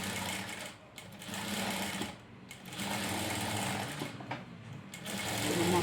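A sewing machine stitching a fabric tassel in reverse runs in steady rapid bursts with brief pauses between runs, close and fairly quiet.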